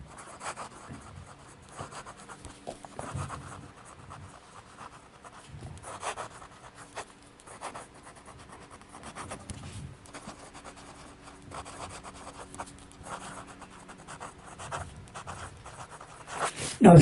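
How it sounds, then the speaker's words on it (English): Fountain pen with a fine nib writing on paper, faint close scratching strokes in irregular bursts with short pauses between words, heard alone in a quiet room. "Let's get some writing done."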